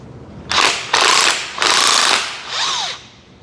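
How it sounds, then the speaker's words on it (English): Power tool pulling the lower crankshaft gear off an engine during cam timing work: four loud bursts of grinding mechanical noise, each about half a second long, the last ending in a brief whining squeal. "we're going to take this lower crankshaft gear off"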